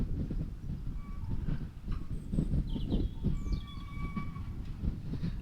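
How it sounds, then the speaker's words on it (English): Nearby waste disposal machine running with a continuous low rumble and clattering, plus faint high squeaks and tonal whines over it, all outdoors. "There is a sort of waste disposal thing next to me."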